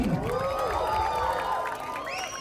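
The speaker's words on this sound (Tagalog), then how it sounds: "palakpakan naman natin, guys! May kasamang hiyawan!" An audience at a film premiere night applauds and cheers, with whistles and shouts over a steady wash of clapping that stays loud for the whole moment and eases slightly near the end.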